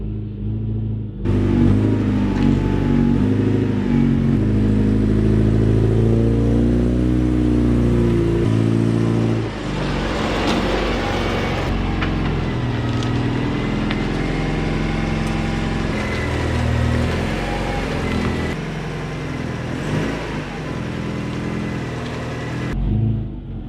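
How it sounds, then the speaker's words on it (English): A car engine on a drift car runs steadily up close, loud and rumbling, with a brief rise in revs midway before settling back into a continuous idle. "We'll let this sit and idle for a little bit till it builds some oil pressure"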